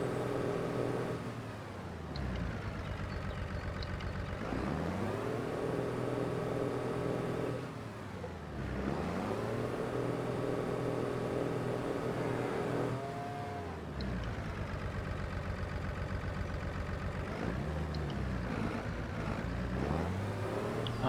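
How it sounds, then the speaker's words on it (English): A tractor engine in the Farming Simulator 25 game drones steadily, with repeated rises and falls in pitch as it revs and shifts, several dips and surges over a long stretch, heard alone with no talk. "Now what is wrong with this tractor? Why isn't it going backwards?"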